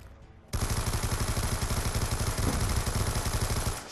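A light machine gun in Black Ops 2 opens up abruptly and keeps firing as a steady, rapid, loud stream of shots for several seconds, clear above the rest of the game audio.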